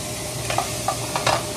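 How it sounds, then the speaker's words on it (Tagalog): Squash sautéing in a frying pan with a steady low sizzle, punctuated by a few quick spoon-scraping stirs, close by and with no talking. "igigisa ko na yan na ang kalabasa ko mga kababayan"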